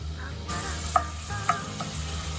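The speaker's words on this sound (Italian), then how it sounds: "Iniziamo anzi ad aggiungerla al nostro soffritto con l'aglio, così piano piano sfrigola." Smoked pancetta and garlic fry steadily in a soffritto for a ragù bolognese, a continuous close sizzle with two sharp clinks of a utensil stirring the pan.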